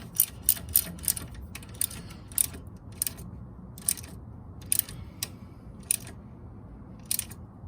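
A wrench or ratchet tightens a bolt on the starter of a flathead engine, making a series of sharp, irregular metallic clicks close by over a low background rumble, with no talking.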